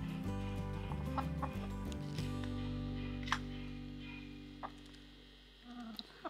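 Hens in a winter garden, now laying eggs, give a few soft clucks over a steady low electrical hum. A couple of sharper clicks follow later, all fairly faint.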